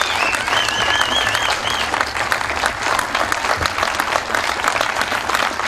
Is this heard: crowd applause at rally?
yes